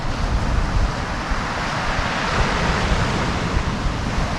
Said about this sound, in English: the wind drops, then it picks up again